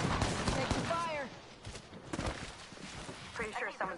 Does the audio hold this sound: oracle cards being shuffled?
no